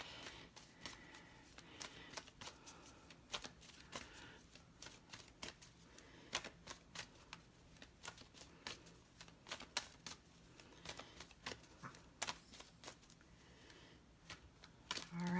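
Fortune reading cards being shuffled, quick riffling flutters and soft taps repeating in bursts, close and quiet.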